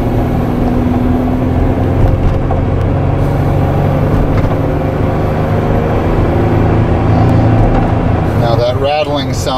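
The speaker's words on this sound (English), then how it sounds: "Rattling sounds like it's likely a panel that's loose." A 1998 Ford Windstar on the road, with steady loud engine and road noise throughout and a faint rattle from a loose panel mixed in.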